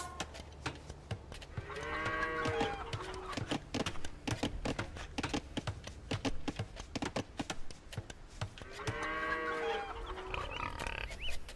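Sheep bleating in Age of Empires II: Definitive Edition, two separate bleats several seconds apart over a steady bed of quiet clicking.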